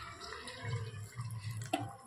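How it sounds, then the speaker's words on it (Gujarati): Water goes into a pot of vegetable curry with soaked lentils, chickpeas and coriander, a short soft pour with light drips and splashes close by, alone without talk. "પાણી પણ નાખી દઈએ."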